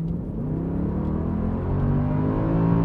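A 6.2-litre naturally aspirated V8 rumbles and revs steadily during a launch, its deep tone climbing and swelling louder toward the end, with no voices.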